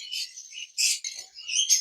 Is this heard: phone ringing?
no